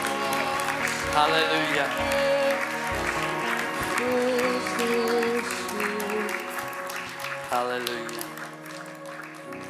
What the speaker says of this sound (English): Can we give the Lord a clap?